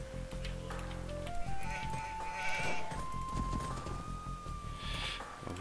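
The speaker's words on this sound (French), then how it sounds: "On va récupérer les moutons." Sheep bleating in Age of Empires II HD, several drawn-out wavering bleats in sequence over a busy game soundscape of soft clatter and background effects.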